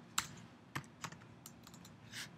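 Faint keystrokes on a Mac keyboard as a command is typed, a handful of light separate taps spread over a couple of seconds against a quiet room.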